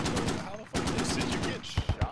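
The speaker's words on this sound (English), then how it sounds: "shooting the RPG at that thing" Gunfire and an RPG launch sound in the video game Squad, with loud close bursts of shots followed by a few sharp blasts near the end, while voices talk over the action.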